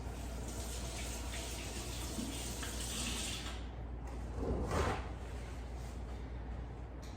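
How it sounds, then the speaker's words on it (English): Water runs from a kitchen tap over hands being rinsed, a soft steady stream with a brief louder gush near the end, and no talking. "give me a second to rinse off my hands"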